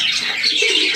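Pigeons coo softly amid a hiss of outdoor background noise, a low murmuring call rising toward the end.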